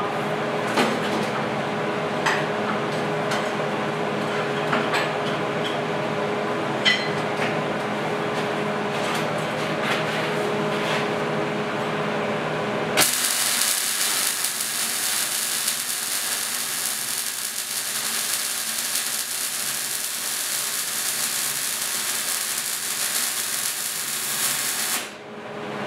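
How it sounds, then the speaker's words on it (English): Welding metal straps onto a basement beam gives crackling, spitting bursts at first, then a loud, steady hiss that runs unbroken for about twelve seconds before cutting off. "All tacked up, now we just have to weld them up."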